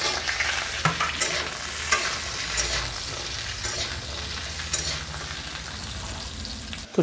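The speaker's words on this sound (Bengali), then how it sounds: "এবার ডাঁটা, সজনে ডাঁটা, সজনে ডাঁটার বেগুনগুলো ভেজে নেব।" Drumstick pieces and brinjal fry in oil in a pan, a continuous close sizzle with brief knocks and scrapes from stirring, with no speech over it.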